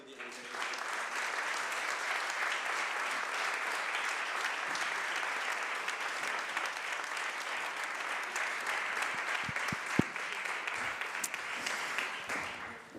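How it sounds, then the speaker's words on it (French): A conference audience at a foundations panel in France gives sustained, even applause for about thirteen seconds, dense and steady clapping from a large hall crowd without speech. "Je vous invite à les applaudir."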